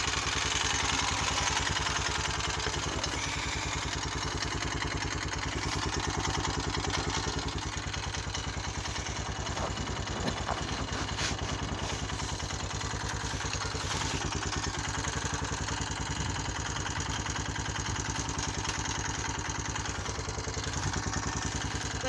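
A Honda Foreman 400 ATV engine running at idle, a loud steady low thrum with a mechanical clatter that holds constant for a long stretch, close by.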